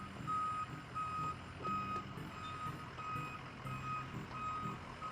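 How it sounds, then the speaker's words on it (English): A truck backing up on a construction site, its reversing alarm beeping in a steady evenly spaced pattern over a low engine rumble and general site noise, moderately distant. "I'm so happy it has a truck backing up in this."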